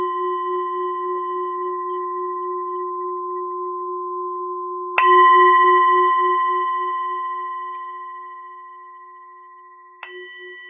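A mindfulness bell rings with a clear sustained tone that fades slowly, then is struck once more near the end, alone in a quiet setting.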